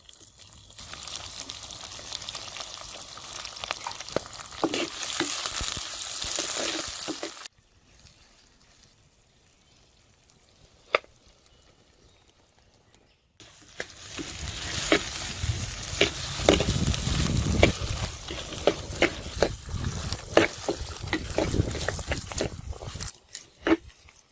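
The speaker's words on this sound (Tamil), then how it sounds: "வெங்காயம் எல்லாம் வதங்கி முடிஞ்சது" Small shallots and green chillies sauté in a pan for a Jaffna-style coconut crab curry. Loud, steady sizzling with stirring scrapes breaks off into near silence for several seconds, then returns even stronger and continues to the end.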